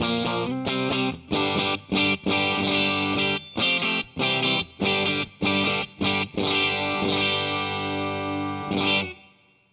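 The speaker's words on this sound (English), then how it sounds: "Clean single coils and the reverb is one of my happy places." Electric guitar with single-coil pickups played through a clean tone with reverb: short bursts of bright strummed chords separated by brief stops, with a final chord left ringing.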